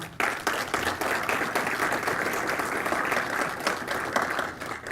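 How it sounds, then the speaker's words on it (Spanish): Strong audience applause at a conference on political gender violence, a dense burst of clapping that starts abruptly and holds steady for several seconds before tapering. "un fuerte aplauso para todos ustedes"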